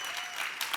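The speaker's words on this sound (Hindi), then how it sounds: "एक बार गौहर और राजीव के लिए जोरदार तालियां।" A brief burst of studio audience applause at The Kapil Sharma Show, dense clapping from a crowd, loud and continuous.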